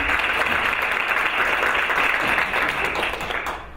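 An audience at an evening gala applauds the event host, a steady dense wash of clapping that stays loud throughout before thinning slightly at the end.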